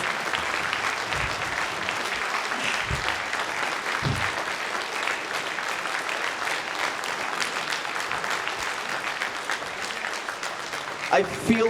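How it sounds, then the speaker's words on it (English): Audience applause fills a convention hall at an animation panel, sustained dense clapping for about twelve seconds with a few whoops and voices mixed in. "I feel the room got hotter from all the clapping."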